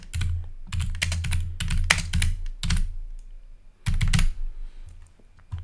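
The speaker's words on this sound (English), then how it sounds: "Now let's type some text." Close computer keyboard typing in quick bursts of rapid clicking keystrokes separated by brief pauses, with no voices over it.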